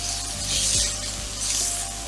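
A hemp seed scramble with turmeric and black pepper is stirred in a hot pan, giving a steady close sizzle with soft scraping swells as the spoon moves through it. No one speaks.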